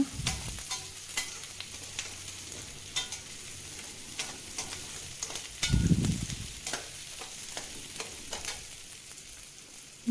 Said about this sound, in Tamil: நல்லா கோல்டன் ப்ரௌன் வர வரைக்கும் நல்லா வறுத்துடுங்க